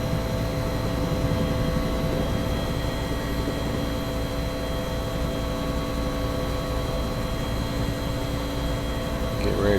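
Steady, continuous aircraft engine drone from a plane flying over an airport in the X-Plane 11 flight simulator, loud and even throughout with no talking.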